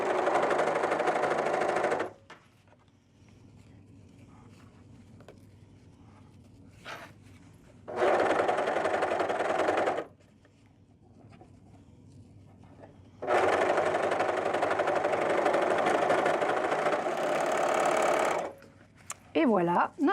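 Domestic sewing machine stitching the final seam of a zippered reusable fabric bag, three separate loud whirring bursts of stitching with quiet gaps between them.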